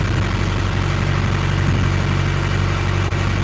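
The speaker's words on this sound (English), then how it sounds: "Now the engine's louder" A fishing boat's engine on a coho salmon outing drones steadily and loudly from start to finish, with a deep, even rumble that never lets up.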